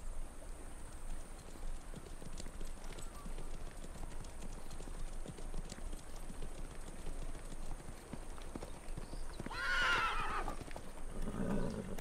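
Horses in an outdoor scene of a Turkish historical drama, with hooves clip-clopping steadily at a moderate distance throughout, then one horse whinnying clearly near the end over a soft ambient hiss.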